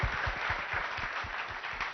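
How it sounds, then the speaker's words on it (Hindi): A crowd at a Lucknow event with Baba Ramdev and Urvashi Rautela applauds continuously, a dense wash of clapping riding over steady, rhythmic low thumps, moderately loud and unbroken throughout. "तालियां जरा जोर से होनी चाहिए, गड़गड़ाहट देर तक सुनाई पड़नी चाहिए"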